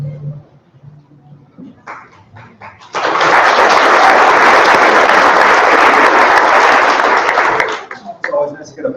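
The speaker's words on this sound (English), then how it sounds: "It's always nice to get applause before you speak" Audience applause for a council member at a 24th Assembly District candidates forum on education, a loud dense burst of clapping lasting about five seconds, with talk before and after it.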